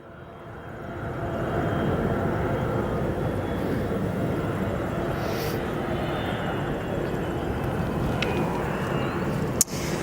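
A Turkish Airlines Boeing 777-3F2ER arriving at O'Hare International Airport from Istanbul, its engines a steady, broad jet roar that builds in the first second and holds loud and continuous, with a brief sharp click near the end.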